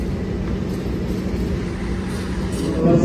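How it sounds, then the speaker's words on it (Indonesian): Steady low rumble of the Mataram passenger train passing straight through a station without stopping, a continuous broadband roar that holds even throughout and swells slightly near the end. "dari arah timur melintas langsung kereta api Mataram relasi Solo Balapan tujuan akhir Pasar Senen"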